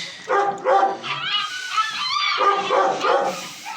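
Long-coat Alsatian puppies whimper and yip close by in a series of short, high, wavering cries with brief pauses between them, with no talking over them.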